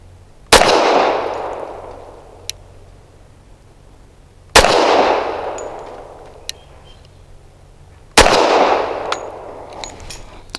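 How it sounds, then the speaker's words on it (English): Three loud, sharp shots from a Tisas Night Stalker 1911 pistol in .45 ACP, fired a few seconds apart at an outdoor range, each with a long ringing decay and echo. "Shooting at that left circle square."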